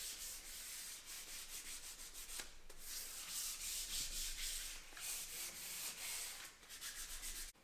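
Steady rubbing as 600-grit sandpaper works over a custom metal railing cap for floating stairs, continuous back-and-forth scratching with a few brief pauses, close and fairly quiet.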